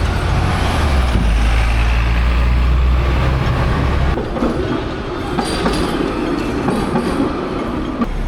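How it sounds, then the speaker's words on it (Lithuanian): A Hong Kong tram rolls past close by on a city street, a loud, steady rumble with low drone and rail clatter for the first half, then softer rolling noise and traffic as it moves away. "O palažiūrėkit, koks tramvajus."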